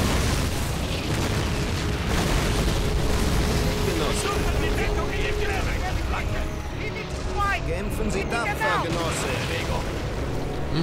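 Heavy explosions and booming fire from Call of Duty: United Offensive around a castle, a dense continuous barrage of blasts and rumbling with a player speaking over the din.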